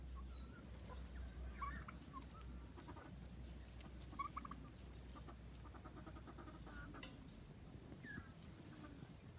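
A turkey on a homestead pecking at carrot tops, giving soft, faint gobbles and clucks over a steady low background hum.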